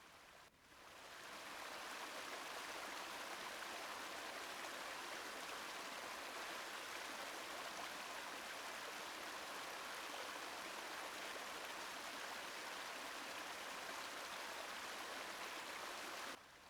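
Steady rushing of a small, mighty river pouring over a waterfall, a dense continuous close-up roar that holds evenly throughout with no talking.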